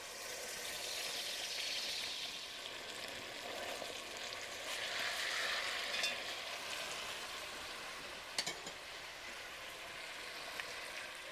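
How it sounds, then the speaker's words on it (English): Chicken pieces frying skin side down in hot oil in a skillet, a steady close sizzle and crackle that swells slightly and carries on alone with one or two faint clinks. "we're going to be putting our chicken in now. We're going to be putting it in skin side down."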